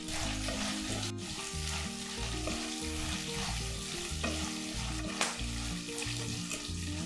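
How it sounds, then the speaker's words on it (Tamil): Steady frying sizzle of onions and fried sundakkai sautéing in a pan, continuous and close, with occasional stirring scrapes and a faint background of music or hum. "இந்த ஸ்டேஜில் வறுத்த சுண்டவத்தலை இதில் சேர்த்து வதக்கிக்கலாம்."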